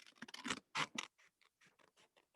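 Scissors snip through paper to cut out a small paper light jacket for a classroom weather craft, with a burst of quick close cuts followed by lighter, spaced snips.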